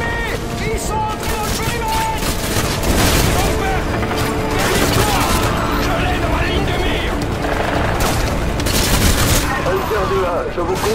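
Enemy gunfire in the video game Call of Duty: Modern Warfare 2: dense, continuous bursts of automatic fire and booms over a busy battle mix, with voices speaking over the din.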